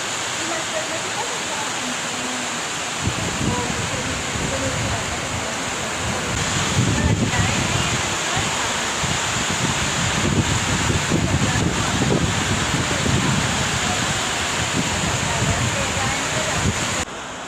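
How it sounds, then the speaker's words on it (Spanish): Torrential rain and rushing floodwater pour through Alto de la Cruz in Mesitas de El Colegio, Colombia, making a continuous, loud, hissing roar that swells and stays dense throughout, with rough wind buffeting the microphone. "mire cómo viene el agua acá al Alto de la Cruz"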